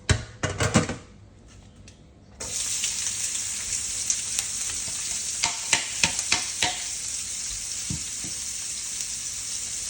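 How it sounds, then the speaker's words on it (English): Diced celery, capsicum and bacon frying together in a pan, a steady loud sizzle broken by repeated scraping stirs and a few clacks, after a brief quieter moment near the start. "Everything's diced up, we're going to put it all in together and mix it up."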